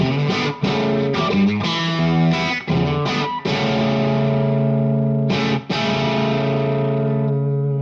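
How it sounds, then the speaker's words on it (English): An electric guitar runs through a King Tone silicon fuzz pedal set to full fuzz, ringing out thick, heavily distorted chords and sustained notes with brief gaps between strums. "So let's go full fuzz and see what that does. So this is silicon now."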